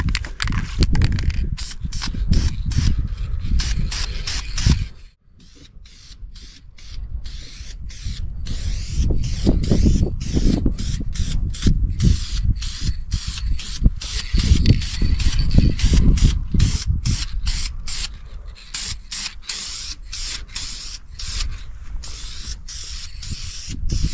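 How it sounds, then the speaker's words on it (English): A spray gun lays base coat on a 2003 Yamaha YZ450F motorcycle frame outdoors in the wind, producing close, loud hissing bursts separated by short pauses, with one longer break early on before the spraying resumes. "I'm going to start spraying that."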